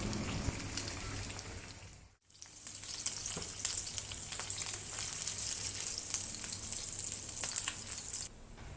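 Pork chops coated in cornflour pan frying to golden brown, a steady close crackling sizzle with dense popping spatter, briefly cut off near the start and then continuing without talk.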